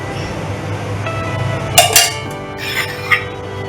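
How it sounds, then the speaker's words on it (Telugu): A pan is set on a stove and oil goes in for a roasted coconut chutney, heard as a few close metallic clanks and clinks over a steady low background hum. "బాండిల్ పెట్టుకొని నూనె వేసుకుంటున్నానండి."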